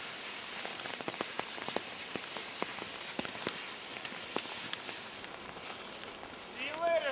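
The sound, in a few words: pouring rain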